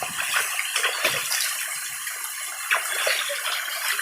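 Cold water splashing and gushing during a bath, poured in close, uneven bursts that fill the whole clip.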